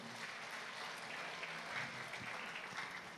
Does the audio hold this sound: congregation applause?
yes